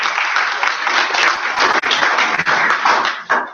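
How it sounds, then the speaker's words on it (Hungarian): An audience at a Jeunesse company presentation gives a presenter sustained, dense applause, loud and steady throughout with no voices standing out. "Egy nagy tapsot."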